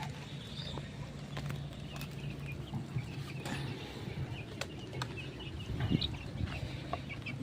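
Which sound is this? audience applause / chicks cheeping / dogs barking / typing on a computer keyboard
chicks cheeping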